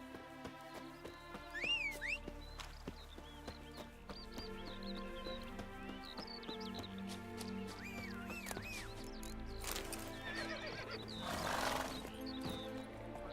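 Roach the horse in The Witcher 3 gives repeated whinnies and snorts over galloping hooves, with a steady music bed throughout and a louder rushing swell near the end.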